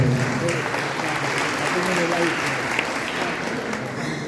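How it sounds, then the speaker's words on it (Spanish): A parish hall audience gives a warm round of applause to welcome a speaker at a church presentation, sustained clapping that fills the room with some voices mixed in. "Lo recibimos con un aplauso"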